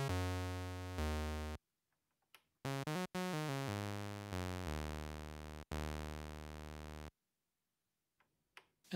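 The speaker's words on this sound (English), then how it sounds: "These are the pure waveforms with no filter, no effects, and they sound punchy already." A Roland SE-02 synthesizer plays raw waveforms with no filter or effects: a series of punchy sustained bass notes, each starting hard and decaying slightly, separated by short gaps of near silence.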